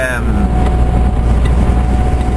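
A Scania truck engine roars past nearby, a loud, steady low rumble that drowns out the surroundings.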